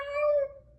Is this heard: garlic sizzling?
no